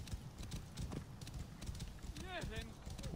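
Horse hooves clip-clop in a steady rhythm during riding in Assassin's Creed Origins, with a brief whinny near the end. A person talks over the hoofbeats throughout.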